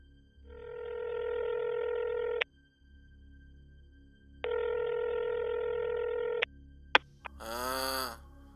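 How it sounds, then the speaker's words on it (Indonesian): A mobile phone call rings out on the line: two long buzzing ringback tones separated by silence, then sharp clicks as it connects and a brief voice answers. "Dia keluarin HP, dia coba buat nelpon nomornya si Niko."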